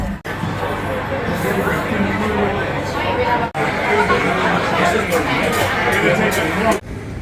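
Steady, loud crowd chatter fills O'Shea's pub in Bangkok on a Saturday night, with many overlapping voices blending into a continuous babble close around the listener.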